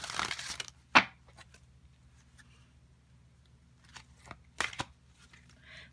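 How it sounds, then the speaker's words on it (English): A quiet riffling of a large tarot deck, with a brief flurry at the start and a few soft flicks and taps afterward, near and unhurried. "First I'm going to just do a regular shuffle"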